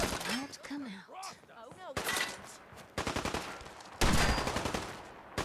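Kate fires her gun in the PACE video game: rapid bursts of close, sharp gunfire come in quick clusters after a brief quieter stretch, and the loudest volley lands near the end.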